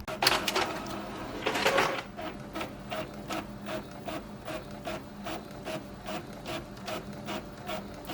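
Small 3D printer at work in a craft studio, its head ticking and whirring in a steady repeating rhythm of short mechanical strokes, busier and louder for the first two seconds, close and without talk.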